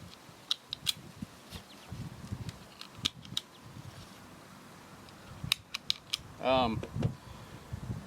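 A Remington R51 pistol being loaded up close, with a scattered series of crisp metallic clicks and clacks, quiet gaps between them, and a brief squeaky rasp near the end.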